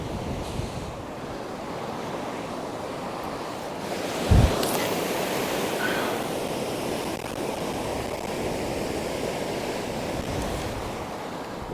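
Strong wind sweeps across a beach at Cambois, Northumberland, during beach fishing, a steady loud roar of gusts and surf with one brief low thump partway through.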